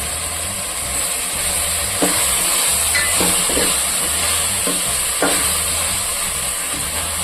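Steady sizzle of chili powder and tomato masala frying in oil for a parotta salna, with occasional spoon stirs scraping the pan up close.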